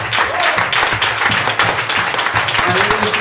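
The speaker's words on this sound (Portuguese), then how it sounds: "Eu quero que você dê o seu melhor aplauso a Jesus nessa noite." A church congregation applauds loudly and steadily during an evening worship service, dense clapping filling the room while a preacher's voice carries over it.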